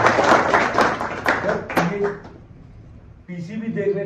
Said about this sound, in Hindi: ताली बजा दीजिए सर।